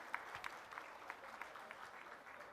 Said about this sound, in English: Can we have a round of applause for our esteemed group of panelists?